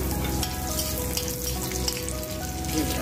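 Oil sizzles steadily in a pan while Malvani black pea sambara is being cooked, giving a dense, close, crackling hiss throughout.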